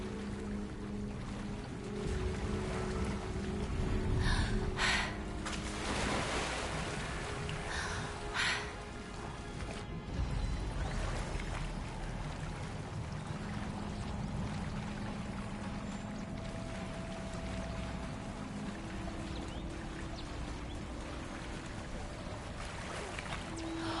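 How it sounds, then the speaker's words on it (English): Water in Hogwarts Legacy bubbles and churns steadily, a continuous gurgling, splashing wash that stays fairly loud, with brief brighter bursts near the start and a soft game tone underneath. "Look, where the water's bubbling"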